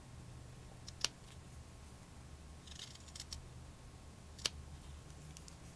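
Very sharp scissors snip through cloth doll fabric in a quiet room. Two crisp, separate cuts stand out, with faint rustling and handling sounds between them.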